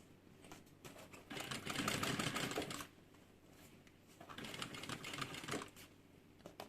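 A sewing machine stitches the edges of a fabric bag together, running in two loud bursts of rapid mechanical chatter separated by a quieter pause, with no voices.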